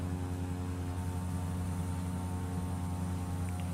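A Cessna 208 Caravan turboprop in a flight simulator game drones steadily during a maximum-rate climb, a constant even engine and propeller hum with no voices.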